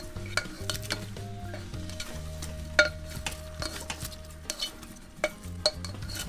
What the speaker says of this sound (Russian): Теперь все это надо перемешать, чтобы соль, специи,